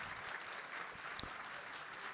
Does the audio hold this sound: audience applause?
yes